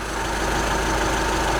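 A steady, loud engine rumble hums without change, like a Rover SD1 car idling close by on jump leads, with no voices over it.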